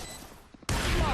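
Burst of rapid gunfire in the tactical shooter Valorant during a professional esports match, a sudden loud dense volley cutting in abruptly after quieter game ambience.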